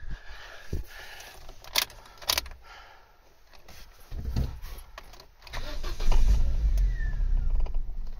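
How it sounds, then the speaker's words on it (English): Vauxhall Corsa with its ABS pump disconnected and a P1615/P1616 no-start fault: a few sharp clicks and clunks, then a loud cranking engine-start attempt that keeps churning steadily for several seconds, with no talking. "We're going to see if we can start this car with the ABS pump disconnected."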